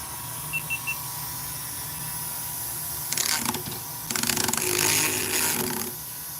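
A Dremel rotary tool grinds a burr off a part on a workbench. Three faint beeps come first, then two spells of close, buzzing whine with scraping texture, each a second or two long, separated by a short pause.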